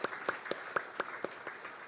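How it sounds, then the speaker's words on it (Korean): Church congregation applause of thanks during a Christmas service, heard as a quick, rhythmic run of distinct claps, about four per second, close and clear with no talk. "감사의 박수 올려드립니다"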